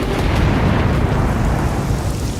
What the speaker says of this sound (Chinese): 接着是一阵巨大的雷响，